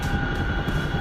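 A 50,000-pound Chinook helicopter in flight makes a steady engine drone with a high whine and a low rotor throb, heard briefly and without speech.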